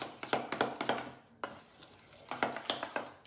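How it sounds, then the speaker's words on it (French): A utensil scrapes and clinks rhythmically against a bowl while mayonnaise and crème fraîche are stirred together, close and fairly loud, with a brief pause midway before the strokes resume. "tu mélanges la mayo et la crème fraîche"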